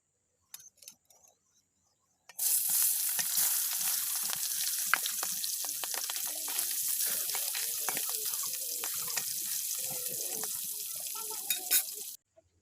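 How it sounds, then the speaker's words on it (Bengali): Turmeric- and salt-coated puti fish hits hot soybean oil in a wok, breaking into a loud, steady close sizzle that holds for about ten seconds after a few quiet knocks. "গরম কড়াইয়ে কিছুটা সয়াবিন তেল দিয়ে এর মধ্যে দিয়ে দেব লবণ ও হলুদ মাখানো মাছ"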